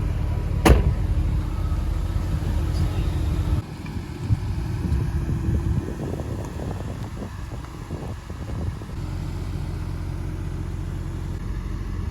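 A car with a very long front and low ride height drives along a road on the Olympic Peninsula, giving a steady low engine and tire rumble with some wind noise.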